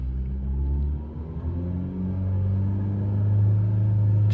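A car engine held in gear at a steady RPM, a low continuous rumble with a smooth even drone that swells slightly, close and alone.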